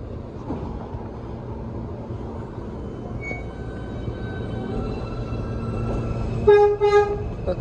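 A steady rumbling of a running model F train in a Brooklyn hobby store fills the clip, ending with a short, bright horn toot near the end.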